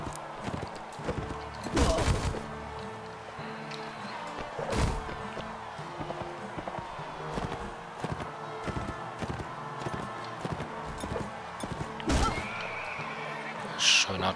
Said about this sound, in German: wir reiten hier einfach mal zwischen diesen beiden Gruppen hin und her